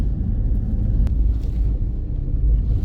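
A car sliding through a corner on a driving-skills training track at ODTJ Lublin, heard as a steady, close, low engine and road rumble with no voices.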